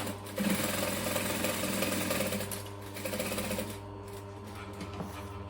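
A sewing machine stitches steadily around a fabric piece with a back stitch at the start, its motor whirring in a continuous close rhythmic hum that eases slightly toward the end.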